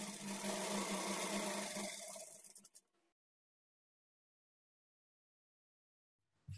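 A sewing machine stitching a blouse lining runs steadily for about three seconds, close and moderately loud, then stops abruptly, leaving silence before a brief low thump at the end.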